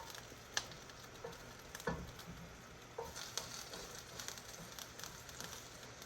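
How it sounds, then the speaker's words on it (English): Steady crackling sizzle of ginger frying in hot oil, with a few sharp pops and clicks scattered throughout, no voices. "The first step will be to be frying the ginger for about 30 seconds."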